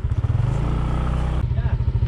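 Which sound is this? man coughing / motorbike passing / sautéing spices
motorbike passing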